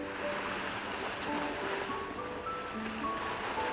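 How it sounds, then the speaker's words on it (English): Ocean waves wash steadily in the background of a phone call in a video game, a continuous soft surf rush with faint tonal tones drifting over it, no voices. "why do I hear waves on your end?"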